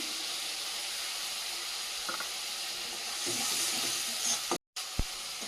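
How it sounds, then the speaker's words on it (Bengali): Ginger-garlic paste frying in hot oil in a pan gives a steady, close sizzle and hiss, broken by a few stirring scrapes and knocks near the end. "আদা রসুনটা ভেজে নিয়েছি"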